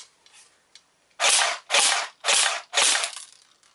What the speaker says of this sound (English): So there it is in semi-auto.